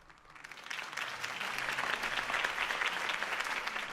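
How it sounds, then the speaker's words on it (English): Crowd applause in the Batman Telltale Series game after Harvey Dent's campaign speech, swelling from quiet to a full, dense roar of clapping from a large rally audience that holds steady. "could have heard that applause"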